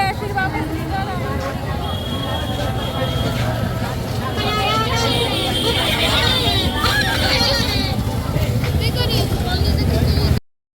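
Dense crowd babble fills a packed Durga Puja pandal, a steady wall of many overlapping voices with traffic-like rumble beneath, loud and continuous throughout.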